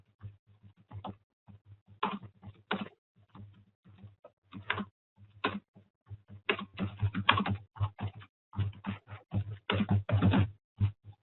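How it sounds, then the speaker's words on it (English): Typing on a computer keyboard comes in quiet, irregular bursts of close key clicks, with short pauses between flurries and no talking. "I'll just type this out as well."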